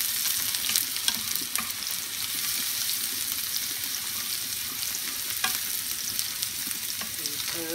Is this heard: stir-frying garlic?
yes